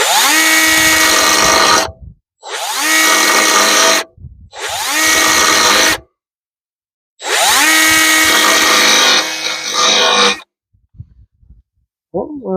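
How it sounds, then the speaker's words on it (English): A belt sander sanding the ends of small parts in bursts, four loud whining runs separated by short pauses, close to the listener, ending in quiet handling noises. "All I got's the sander, belt sander, but I do have a couple belts."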